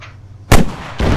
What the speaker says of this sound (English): I can't see the machine gun.